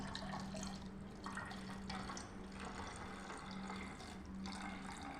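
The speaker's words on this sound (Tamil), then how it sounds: "அந்த காலி பாட்டிலில் இப்போ தண்ணி நிரப்புகிறோம் பாருங்கள்." Water running and trickling into empty plastic bottles, a soft steady splashing with faint drips and a low hum underneath, quiet and without speech.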